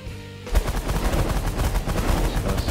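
Rapid bursts of automatic gunfire in The Last Federation erupt after a brief quiet start, continuing loud and dense with rattling repeated shots.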